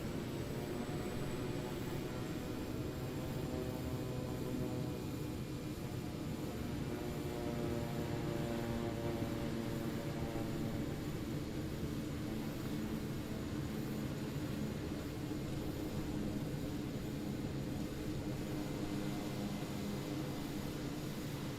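An airliner in Microsoft Flight Simulator 2020 rolls for takeoff without flaps, its engines holding a loud, steady roar with a thin high whine running through it.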